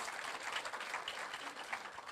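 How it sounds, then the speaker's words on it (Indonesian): A church congregation claps together during a sermon, a steady, moderately faint patter of many hands sustained throughout, with no voices over it. "Tepuk tangan buat Tuhan Yesus."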